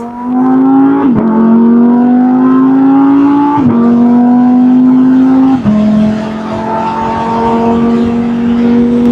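A Lamborghini Huracan Spyder LP610 in Corsa mode revs loudly up close, its engine tone climbing steadily in three long pulls, each ending in a sharp shift and a brief dip before rising again.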